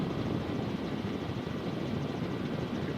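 A Robinson R44 helicopter climbs during a practice flight, its rotor and engine a loud, steady, dense drone heard from inside the cabin with no talk over it.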